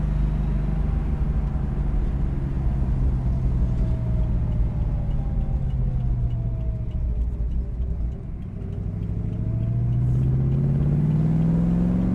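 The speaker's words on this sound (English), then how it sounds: "I hope you're getting good engine sound." Engine of a 1966 Shelby GT350 convertible replica rumbles steadily while cruising, a deep continuous drone with gentle rises in pitch as it accelerates and shifts, close and loud with no talking.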